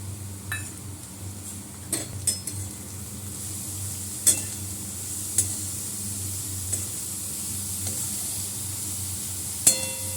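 A spiced filling fries dry in a pan while turmeric, chili and salt are stirred in, a low steady sizzle broken by scattered sharp clinks of a spoon against the metal pan, nearby with no speech.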